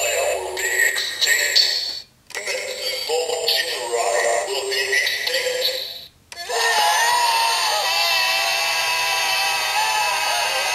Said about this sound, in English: the last sound is the four members of MetsubouJinrai screaming